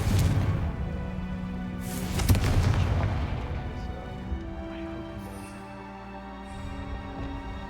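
The Confringo blasting spell bursts in Hogwarts Legacy with a deep, booming explosion and a sharp crack around two seconds in, followed by rumbling debris and a long fading tail.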